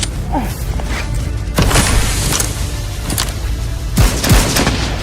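Gunfire in a Call of Duty Mobile match: several sharp, loud shots and booms crack out at irregular intervals over a noisy battle background, with a voice briefly speaking between them.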